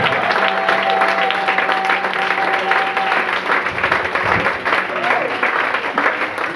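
A church congregation applauding and acclaiming God during a sermon, steady dense clapping sustained throughout with voices mixed in under it.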